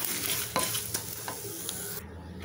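Chillies and coriander dry-roasting in a pan over medium heat for a fish kulambu masala: close scraping stirs over a steady sizzle, easing to a quieter hiss near the end, with no talk.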